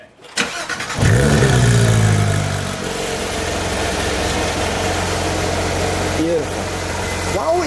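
A 2016 Porsche 911 GT3 RS cranks and fires up at close range, its starter whir giving way to a loud catch and a steady, rumbling idle, with a couple of brief blips near the end and voices talking over it.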